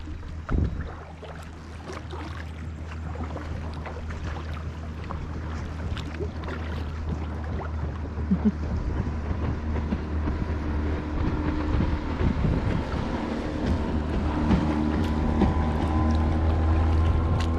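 A motorboat passes near a canoe on a northern lake and accelerates, its low engine drone rising steadily over constant wind and water noise.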